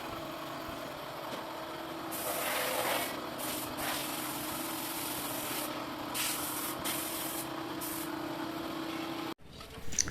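Compressed air blows dust off a car roof before painting, a steady loud hiss lasting several seconds that surges and drops in bursts, then cuts off sharply near the end.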